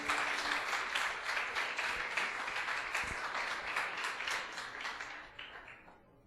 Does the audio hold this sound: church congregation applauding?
yes